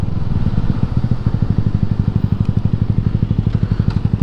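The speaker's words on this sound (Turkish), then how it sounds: "Egzoz ses yapma yavaş egzoz. Sakin egzoz." Yamaha MT motorcycle engine and exhaust while riding in third gear at about 35, a steady rapid pulsing thrum close up that runs continuously.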